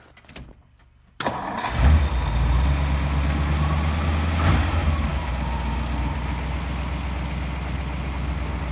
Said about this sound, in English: I'll get a good shot of what the exhaust sounds like